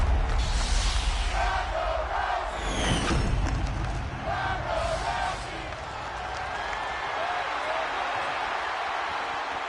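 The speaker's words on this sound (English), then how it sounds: "Look at the crowd chanting Ronda Rousey." Virtual wrestling arena crowd in a WWE 2K23 SmackDown match chanting for Ronda Rousey, a dense, steady roar of voices with rising whoops and cheers that holds throughout, with a commentator talking over it.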